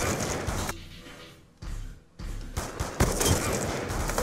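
Gunfire in an Xbox 360 shooter game arrives as dense bursts of shots at the start and again near the end, with a quieter gap in between.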